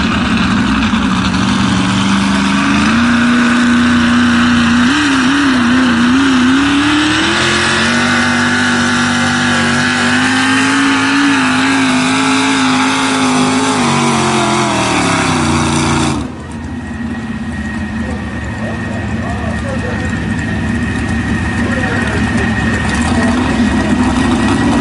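A loud engine from a truck-pulling event in Ukiah, California, roars steadily with a wavering, rising and falling pitch, then drops in volume and tone after about sixteen seconds and keeps droning on.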